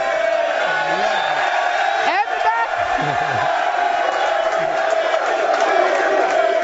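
Boisterous studio audience at a sports talk show, likened to a fight night crowd, keeps up a steady roar of cheering with whoops and low bellows throughout, with a few brief voices breaking through.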